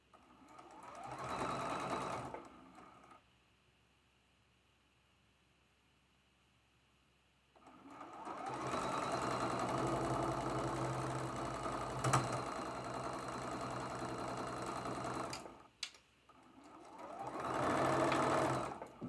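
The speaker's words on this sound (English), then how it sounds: "sew this seam with the quarter inch seam allowance" A sewing machine stitching a quarter-inch seam on a traditional quilt block, fast whirring runs that start and stop in bursts, separated by quiet pauses.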